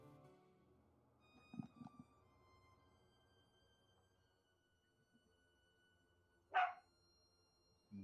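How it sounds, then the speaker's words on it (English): A pet dog indoors lets out one sharp, loud bark after a long, quiet stretch, with a few softer thumps and small sounds earlier on. "Yeah, that's my dog."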